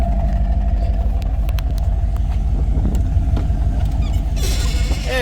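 A 1972 Chevrolet Corvette with dual exhaust idles close by, a loud, steady, deep engine rumble that fills the whole stretch with little variation.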